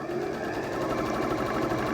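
A sewing machine runs steadily while stitching seams on an Amish friendship star quilt block, a close, even, rapid mechanical whir with a continuous rhythmic chatter and no pauses.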